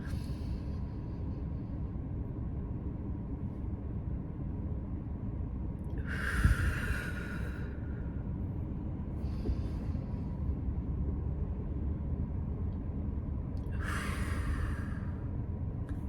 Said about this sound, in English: you deep breathe in, hold it, deep breathe out